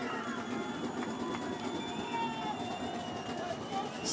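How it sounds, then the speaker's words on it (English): A crowd stomps on wet bleachers at a varsity football game against Pierre on third down, making a continuous, loud rumbling roar while a commentator talks over it. "Stomping on the wet bleachers."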